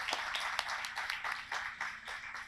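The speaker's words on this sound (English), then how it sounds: "I want to first give a round of applause to all of them" A small audience at a youth cycling education summit claps for the trainers, a light, fairly faint patter of hands with a few distinct sharp claps, steady for a couple of seconds with no talk.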